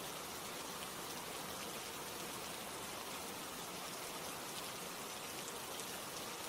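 Rain falls in a dense, even shower, its soft, steady patter holding unbroken and fairly quiet with no voices.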